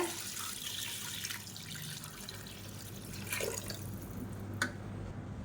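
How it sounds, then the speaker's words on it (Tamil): Water is poured into a pot of country chicken for Chettinad rasam, a close, splashing, trickling stream with a few drip-like spikes near the end and no voices. "இப்போ இந்த சிக்கனுக்கு தண்ணி ஊற்றிக்கலாம் நல்லா ஒரு ரெண்டு லிட்டர் தண்ணி ஊற்றிக்கோங்க"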